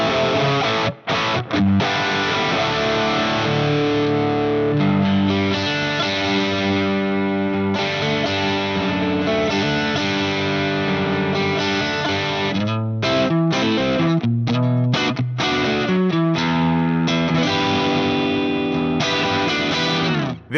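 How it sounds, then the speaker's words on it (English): Electric guitar played on its bridge pickup through a Plexi amp model, a thick, distorted crunchy tone with sustained chords and riffs, loud and continuous with a few brief gaps, no voices. "So let's just hear that on the bridge pickup of this guitar."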